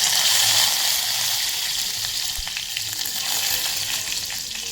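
Curry leaves frying in hot oil with asafoetida, a loud continuous crackling sizzle that slowly settles, close up with no talking.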